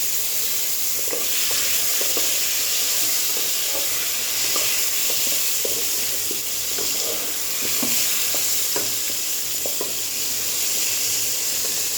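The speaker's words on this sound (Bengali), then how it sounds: "কুমড়োটাও আছে, সব ভেজে তুলে রেখে দেবো" Pumpkin and two kinds of potato, sweet and regular, fry steadily in hot oil with a continuous sizzle and hiss, punctuated by soft scraping clicks of a spatula stirring the pieces.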